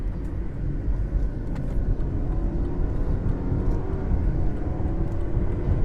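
A BMW F30 320i turbo petrol sedan accelerates in sport mode, its engine a steady, loud interior rumble and drone that rises gently through the gears with no talking.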